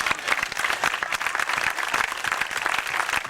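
An audience at a juggling danger show claps and applauds steadily, a dense, loud burst of many hands close by that holds throughout without a break.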